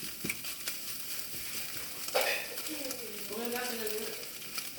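Scrambled eggs frying in a pan, a continuous soft sizzle with a sharper scrape partway through and faint tonal squeaks toward the end, close by and without clear speech.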